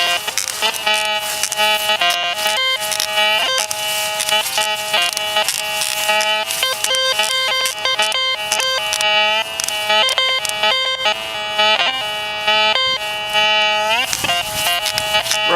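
Loud, insistent electronic beeps from an MX Sport metal detector in relic mode fill the whole stretch, with stacked tones firing in rapid irregular bursts close to the mic and no talk.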